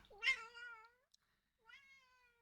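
A cat meows twice, close and fairly soft: a longer, drawn-out meow followed after a short pause by a briefer one.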